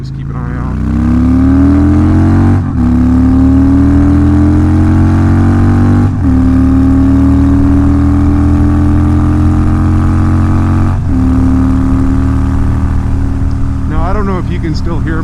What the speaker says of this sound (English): These pipes are deafening. There's no baffle on